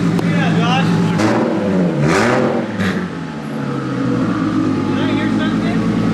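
A turbocharged 2JZ-swapped car with a large Garrett turbo on E85, its engine droning loudly then revving up and down, with people talking over it throughout.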